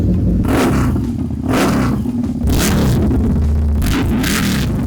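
A Harley-Davidson V-Rod Muscle engine revs loudly and close by in repeated bursts, roaring up and dropping back between throttle blips.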